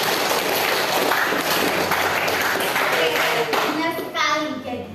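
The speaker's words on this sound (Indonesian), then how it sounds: "Tepuk tangan buat kalian" Students clap together in a classroom during an economics lesson, brisk and close, with children's voices mixed into the clapping and a short shout near the end.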